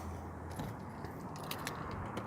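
Car keys for a 2004 Toyota Hilux SR5 automatic dual cab ute jingle softly as they go into the ignition, a quiet scatter of light metallic clinks with no talking.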